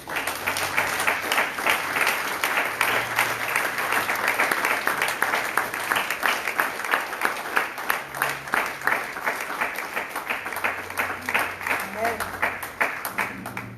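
A church congregation claps and cheers in a sustained burst of applause, dense and continuous, with voices calling out beneath the clapping throughout.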